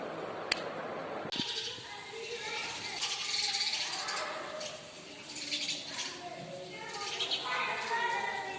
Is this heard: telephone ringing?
no